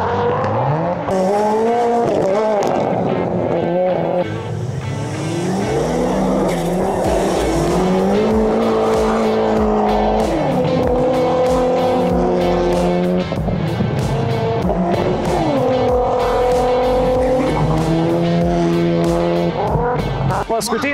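Powerful autocross race cars in the top class of a Lithuanian championship qualifying round tear through a rough track bend, engines roaring and revving continuously with tyre squeal, loud and close, while a commentator talks over them throughout.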